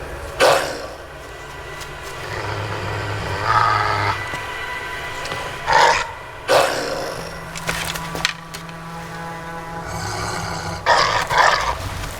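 A dog growls in Assassin's Creed Valhalla, with several rough, snarling bursts rising and falling over a low ambient bed, fairly close and loud, and no talk.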